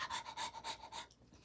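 A person imitates a dog panting while reading a children's picture book aloud, producing about five quick rhythmic breathy huffs, close and soft, then trailing off.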